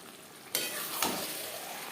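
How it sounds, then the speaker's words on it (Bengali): Chicken and potatoes fry over a high gas flame, a steady sizzle filling the background while two brief scraping stir strokes break through near the start and middle. "হাই ফ্লেমে 2-3 মিনিট নাড়াচাড়া করে দেব।"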